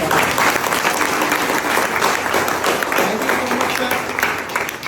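An audience at a network marketing seminar breaks into sustained, steady applause, loud and close, with some voices mixed into the clapping.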